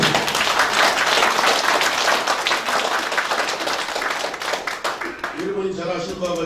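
Audience of peace ambassadors at a Korean civic gathering breaks into dense, sustained applause, loud and continuous, tapering off toward the end as a voice returns.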